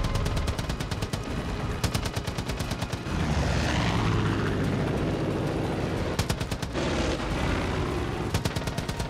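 Gunfire and an airplane in the video game Far Cry 5, with loud, rapid bursts of automatic fire around a sustained roaring engine drone that rises mid-battle, all close and dense with no talk.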